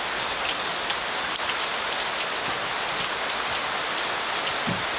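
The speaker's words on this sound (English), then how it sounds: "Absolute deluge here today." A heavy rain downpour pounds steadily on a farm, a dense constant hiss of drops on surfaces with no voices.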